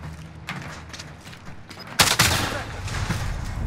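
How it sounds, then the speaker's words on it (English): Shooter video game gunfire: scattered shots early, then a loud burst of rapid fire partway through that continues as dense shooting to the end. "Shooting."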